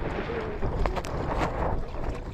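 Strong wind while kayaking at sea roars against the microphone in a continuous rough rush, with faint water and paddle sounds beneath.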